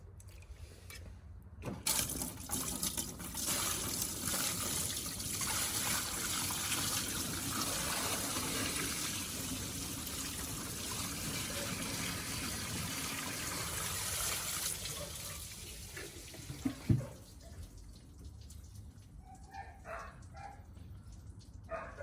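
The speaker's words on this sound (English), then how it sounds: "I'm gonna rinse it with another bucket." Rinse water gushes from a bucket over a corroded car battery tray, a loud sustained splash lasting about fifteen seconds before it tapers off into scattered drips and light handling noises.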